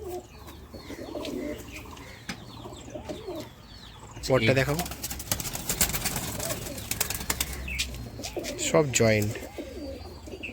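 Andhra pigeons cooing in deep repeated throaty bursts close by, mixed with light chirps and a flutter of wings, under intermittent talk.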